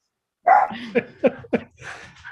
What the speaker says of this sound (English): my dog, who's being rather loud